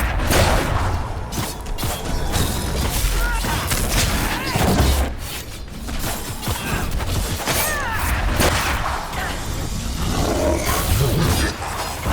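Dragon attacking in the Dragon Age: Inquisition video game, a loud sustained roaring din with crashing impacts and battle noise filling the whole stretch, along with voices.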